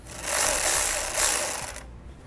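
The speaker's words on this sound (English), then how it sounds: "we can take a 10mm socket and we're going to loosen up the post on the positive side of our battery" A 10mm socket loosens the positive battery post nut, heard as a close, rapid buzzing ratchet whir lasting under two seconds before it stops.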